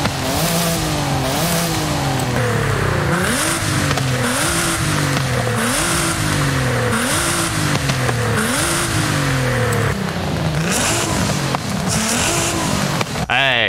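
A 2023 Nissan Z with a tuned exhaust in the racing game Forza Horizon 5 revs repeatedly in loud, steady rising sweeps, each pull climbing and dropping back through shifts, with a brief tire squeal near the end.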